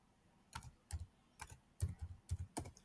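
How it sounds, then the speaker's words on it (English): Keys clack on a computer keyboard in a short run of about eight distinct, close taps with brief pauses between them, quiet and with no talking. "Now, I'll type in fruits."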